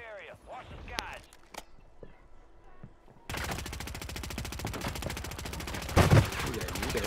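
Rapid automatic gunfire in a video game battle, a dense continuous burst that starts abruptly partway through and stays loud to the end, with a sharper spike near the close; game voice and talk are heard before it.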